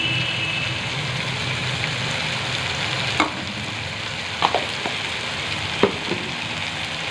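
Ginger and garlic frying in a pan give a steady close sizzle, with a few brief clinks and stirring taps over the constant hiss, and no voices.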